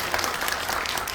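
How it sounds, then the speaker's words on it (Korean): Brief burst of steady audience applause in a cinema auditorium during a film talk event, many hands clapping evenly at close range. "박수!"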